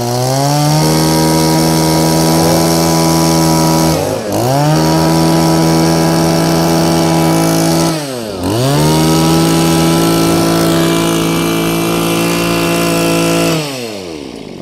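A Mitsubishi TL23 23cc two-stroke brush cutter engine runs loud and close, holding a high buzzing idle and dipping then revving back up twice before fading at the end.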